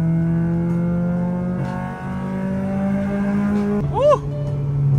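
A 1999 Honda Civic SiR engine pulling hard in third gear while driving, loud steady engine drone with a rising pitch after a gear change and a brief squeal, no talking.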